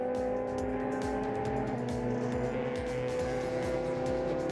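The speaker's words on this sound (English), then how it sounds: "Thomas Reeb in the Shelby and Steve Humble in the Juno are running side by side through the bowl." Two race cars, a Shelby and a Juno, run side by side through a banked bowl on a circuit, their engines a steady, sustained mechanical drone with a pulsing low rhythm, fairly distant and unbroken by talk.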